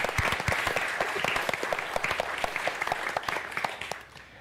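An evening studio audience applauds at a televised community health panel, dense rapid hand clapping from a moderate-sized crowd that holds steady for several seconds and then tapers off.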